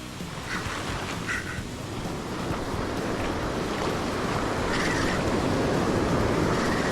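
Ocean surf washes onto a Florida beach in a steady, building roar, swelling louder toward the end as waves break close by, with wind buffeting the microphone.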